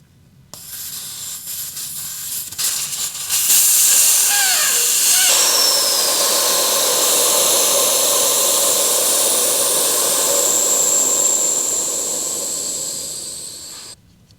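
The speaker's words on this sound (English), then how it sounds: "So let's see if it can pump this tyre right up to 39 PSI and how long it takes." A Sealey rechargeable tyre inflator pumps up a 180 motorcycle tyre from flat toward 39 PSI, giving a loud, steady airy whine and hiss that holds nearly constant for over ten seconds before cutting off.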